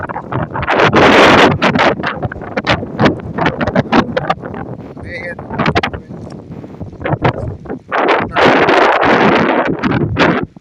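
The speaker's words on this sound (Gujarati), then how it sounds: "પવન બહુ છે" Strong gusts during a summer thunderstorm in a village buffet the microphone in loud, roaring bursts that rise and fall, with a brief lull midway.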